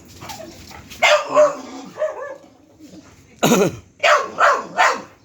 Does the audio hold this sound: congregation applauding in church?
no